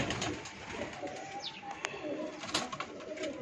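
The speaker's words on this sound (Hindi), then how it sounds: "ये जी दोस्तों, ये कलदुम्बा कबूतर है और एक चीना कबूतर है।" Pigeons coo softly nearby amid a busy background, with a brief flutter of wings; one is a Kaldumba pigeon and one a Cheena pigeon.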